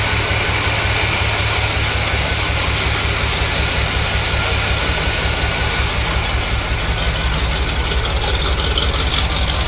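Engine of a 1974 Corvette Stingray running on fresh gasoline, a loud steady idle with a rapid rhythmic pulse and some hiss, close by, with no talking.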